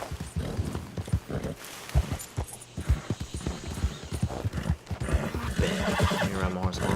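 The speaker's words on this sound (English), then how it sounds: "Let me ride my horse all the way back here." A horse in the Red Dead Redemption 2 video game trots with rhythmic clip-clop hoofbeats and gives a whinny near the end, while a voice talks over the riding.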